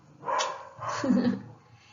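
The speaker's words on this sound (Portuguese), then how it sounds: "Os cachorros começaram." Dogs bark twice in quick succession, close and fairly loud, with no talking.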